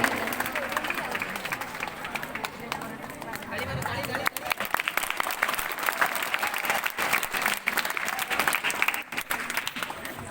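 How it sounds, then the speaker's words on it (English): Sustained audience applause and cheering at a school prize ceremony for an all-rounder prize winner, steady and dense throughout with voices mixed into the crowd noise. "A big round of applause for Om Ayush for getting the all-rounder prize."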